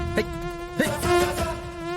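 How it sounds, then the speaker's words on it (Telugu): Close, steady high-pitched buzz of a mosquito hovering near the microphone, with a faint voice briefly under it. "దోమ దోమ"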